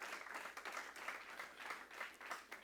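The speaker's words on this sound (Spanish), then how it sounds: "Dale una ofrenda de palmas al que vive y reina por los siglos." A congregation at a church service applauds, a steady, fairly faint wash of clapping with small swells that lasts the whole moment.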